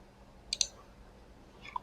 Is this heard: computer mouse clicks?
yes